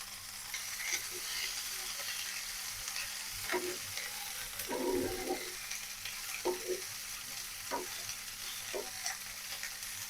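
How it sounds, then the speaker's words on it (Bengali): Coriander leaves frying lightly in a pan with onion, green chili and garlic, a low steady sizzle broken by several stirring scrapes and a brief louder burst midway. "ধনেপাতা হালকা ভেজে নিব"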